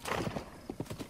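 Horse in The Legend of Zelda: Breath of the Wild, hooves clip-clopping in a quick uneven rhythm with a snort or whinny mixed in, close and fairly loud.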